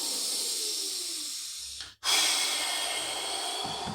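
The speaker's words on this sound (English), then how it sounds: "take a breath, reset" A long, deep airy breath drawn in during a beginner's 90/90 hip internal rotation exercise, close and hissing, with a brief pause before a strong exhale continues.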